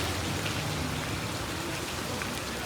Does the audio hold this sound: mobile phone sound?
no